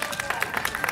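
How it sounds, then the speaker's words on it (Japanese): An audience applauds at a stage show featuring a mascot character, a short burst of dense, lively hand clapping filling the room. "拍手"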